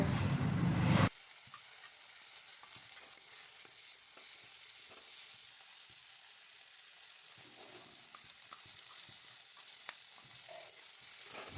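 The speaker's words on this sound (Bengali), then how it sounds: "মশলাটাকে 2 মিনিট কষিয়ে একটু জল দিয়ে দেব।" Ground spices and masala frying in hot oil for a Bengali-style rohu fish curry, a steady close sizzle with faint stirring scrapes, starting with a louder burst as the spices hit the pan, no talk.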